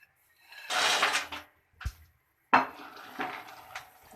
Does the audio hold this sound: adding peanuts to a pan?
yes